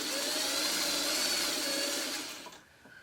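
A sewing machine stitches a leader ender scrap through at the end of a pieced quilt row, a steady close motor whir for about two and a half seconds before it stops.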